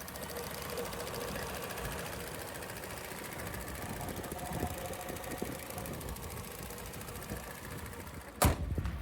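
A Fiat 500 with the 0.9 TwinAir engine idles under an open bonnet, giving a steady, busy mechanical hum with fine rapid ticking, heard alone and fairly close. A sharp knock breaks in near the end.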